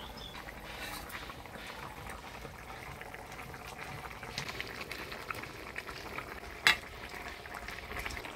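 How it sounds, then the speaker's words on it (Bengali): Fish curry gravy bubbles steadily in a pan, a soft continuous simmering fizz with small pops, close and fairly quiet, broken by a single sharp clink near the end. "ঝোল জাল হয়ে গেছে, এবার ভাজে রাখা মাছগুলা দিয়ে দিব।"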